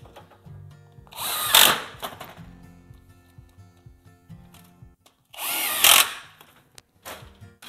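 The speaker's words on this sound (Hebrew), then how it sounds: "ונבריג מפה, בחזית. 5-6 ברגים," Power drill driving screws into the front of a reinforced drywall shelf: two loud whirring bursts a few seconds apart, close by, with quieter handling knocks and clatter between them.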